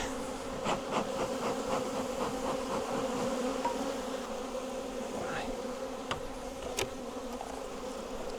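Honey bees in a crowded hive box make a steady, close buzzing hum throughout, with a few sharper passing buzzes near the end.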